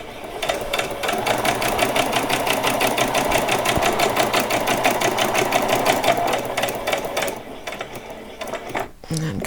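A sewing machine runs a diagonal line of stitches along a length of ribbon on an upcycled dress, its needle clattering in a rapid, even rhythm for most of the clip before slowing and stopping near the end.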